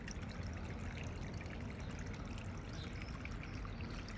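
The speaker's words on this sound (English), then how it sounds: "I've got a wee cap full of food colouring, and I'll pour this in" A small capful of food colouring is poured into the running water of a hydraulic weir and fish pass model, giving a soft, steady trickle and flow that stays faint and continuous throughout.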